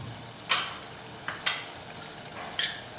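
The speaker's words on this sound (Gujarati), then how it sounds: "ફરી એકવાર આ રીતે સરસ મિક્સ કરી લઈએ" Ridge gourd and patra curry, a green Surati dish, being stirred in a pan; three or four short scraping strokes at a moderate pace, close and fairly faint, with no talk.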